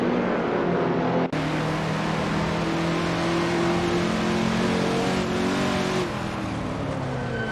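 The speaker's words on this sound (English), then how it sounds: "Loginger Pro very close behind the Ford GT" Race cars in the Assetto Corsa video game at Imola, with steady, loud engine drone and rising revs from several cars, a brief cut near the start, and no speech.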